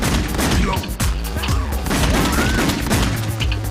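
Gunfire in the video game House of the Dead Overkill: a loud, dense barrage of rapid shots and crashing impacts, mixed with game effects and a low hum.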